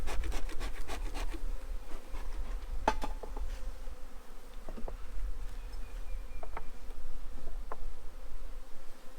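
Honey bees buzz continuously during a frame transfer into a long hive, a dense close hum with occasional scraping and knocking of wooden frames.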